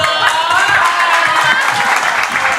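Steady clapping and cheering from a small crowd at a birthday party, continuous and fairly loud, with voices mixed in throughout.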